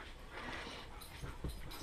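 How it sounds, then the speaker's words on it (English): Dogs whimpering and panting indoors, soft breathy panting with a few faint high whines and small yips, fairly quiet throughout. "Oh my goodness, dogs!"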